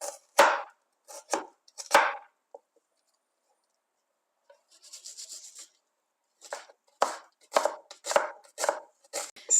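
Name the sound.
knife chopping onions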